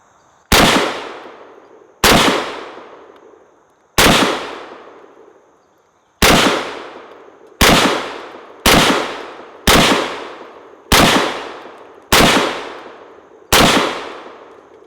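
An SKS rifle with a roughly 20-inch barrel fires ten sharp, loud shots spaced about one to two seconds apart, each crack decaying quickly, with no talking.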